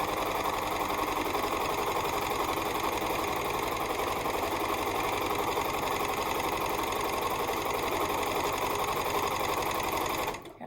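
A sewing machine runs in one steady, continuous stretch while quilting a barn quilt, its rapid needle chatter close and loud before stopping abruptly at the end.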